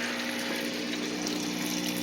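A backyard aquaponic tilapia system's water pump and homemade bucket filter run continuously, a soft, even hum with a low watery rush and gurgle, faint and steady throughout with no voices.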